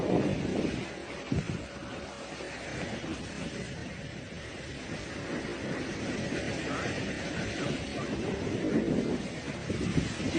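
A boat engine runs steadily at 2,000 RPM while pushing straight into a strong current, its low droning rumble mixed with wind buffeting and water noise across the whole stretch.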